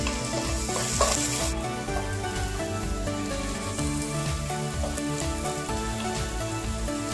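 Onions sautéing in a pan give off a steady, fine sizzle and crackle, with occasional stirring scrapes and clinks, continuous and close.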